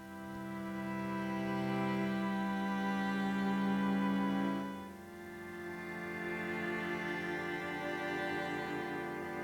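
A second sustained string patch plays held chords with a strong low line, louder and warmer in the first half, then shifting to a softer chord that continues to the end; no talking.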